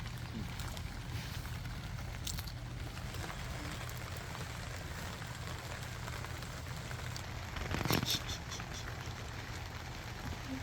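Rain pattering steadily on a surface at a weekend farm plot while firewood burns nearby, a soft even wash of drops with a brief sharper crack near the end.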